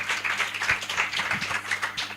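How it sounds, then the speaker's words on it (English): An audience at a conference claps for a panel, a steady, moderately loud patter of many hands in a room, continuous throughout without talk. "A round of applause for my panelists,"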